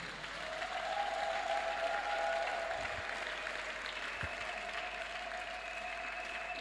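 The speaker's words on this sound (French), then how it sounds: "Est-ce qu'on peut acclamer pour le Seigneur?" A church congregation applauding and cheering for the Lord at a wedding celebration, a sustained wash of clapping from a large crowd, steady and fairly distant, with a faint tonal hum underneath.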